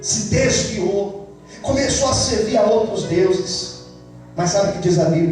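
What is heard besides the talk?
None of the usual background noises is heard.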